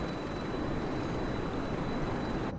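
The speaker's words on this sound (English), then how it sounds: "This kind of helicopter sound." Steady, loud whine and rumble from a D77-TC Pelican dropship engine in Microsoft Flight Simulator, a continuous broadband drone with a thin high tone running unbroken throughout, ending with a brief cut near the finish.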